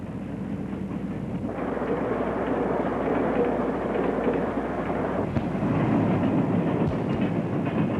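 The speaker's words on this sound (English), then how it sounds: "He also observes the train and waits impatiently for the caboose to appear." A train rumbles steadily past a level crossing at close range, a continuous heavy roar with faint rhythmic clatter of wheels, no voices present.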